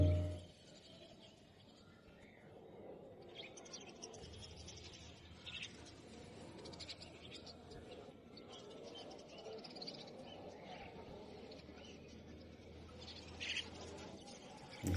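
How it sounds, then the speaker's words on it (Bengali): Soft cooing of pigeons rises over a low, busy background murmur at an open-air village market, scattered and fairly faint, from birds nearby. "কবুতর আছে"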